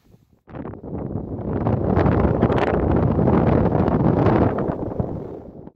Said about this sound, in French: Et franchement, ouais, il y a du vent.